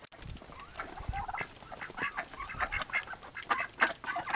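Ducks quack and honk close by in a busy, overlapping run of calls that goes on throughout, with a low rumble underneath and no voices.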